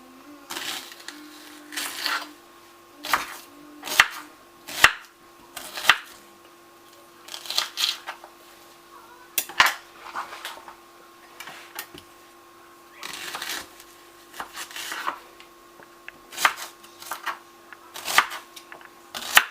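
A knife chops courgette on a board in a kitchen, a series of crisp irregular thuds and cuts in uneven clusters, close by, over a faint steady background hum.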